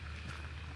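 Steady broadband rushing noise with low rumble, like water churning beside a moving boat on Edwardes Lake, Melbourne, continuous and fairly loud with some wind buffeting.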